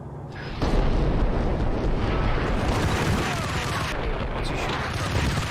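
A grenade explodes in the video game Max Payne: a sudden loud blast that swells into a dense, sustained rumble and roar lasting several seconds without fading.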